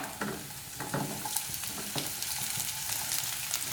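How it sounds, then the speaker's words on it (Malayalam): Onion frying with mixed vegetables in a pan, a continuous crackling sizzle with intermittent scraping stir strokes, close and fairly quiet, with no one speaking. "ഇനി നമുക്കിതിലേക്ക് സവാള ഇട്ട് കൊടുക്കാം"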